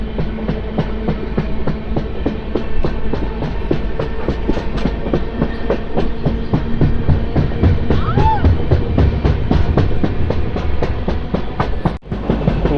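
A train hauled by a WAG 9 electric locomotive, the 18527 running from Visakhapatnam to Charlapalli, rolls past close by. It gives a loud, continuous rumble with quick clickety-clack beats from the wheels over rail joints.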